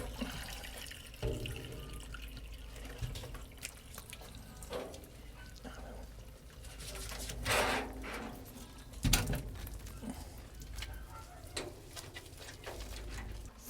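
Running water splashes and trickles steadily while a dog is washed, with occasional louder splashes and faint background cooing.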